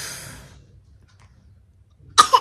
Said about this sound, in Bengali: কাশি হয়ে গেছে, কাশি হয়ে গেছে